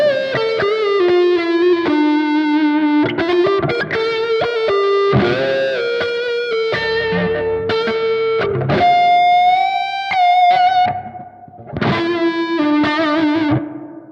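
Distorted electric guitar with reverb played through a Spark amp, a melodic riff of sustained, ringing notes and bends with a short pause near the end, loud and close with no talking.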